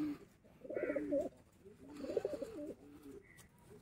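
Breeder pigeons cooing close by, two soft throaty coos about a second apart, alone in a quiet room.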